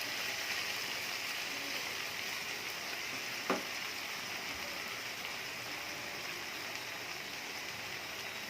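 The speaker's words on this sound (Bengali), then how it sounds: "এখন আমি নুডলসটা ঢেলে দিব।" Boiled noodles tipped into a pan of frying chicken and vegetables: a steady hiss of frying fills the whole stretch, with one brief soft thump near the middle as the noodles land, no talking.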